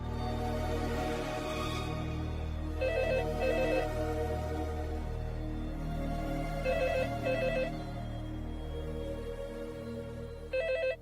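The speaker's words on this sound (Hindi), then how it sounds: "फोन बज रहा है।" A telephone bell rings in repeated bursts within a domestic drama scene, each ring a bright trill separated by short pauses, clear and fairly close over a steady background hum.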